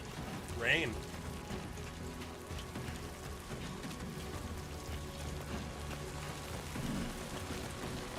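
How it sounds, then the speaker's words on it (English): Steady rain patters and hisses in the video game Death Stranding 2, with a soft rumble underneath and a few louder droplet taps, while a voice talks over it. "Great. Rain. Gotta move."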